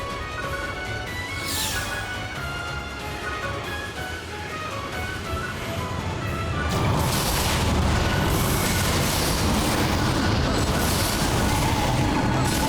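Weapon fire in the video game Phantasy Star Online 2, dense booming blasts and crashes that swell louder midway into a sustained barrage, with no talk over it.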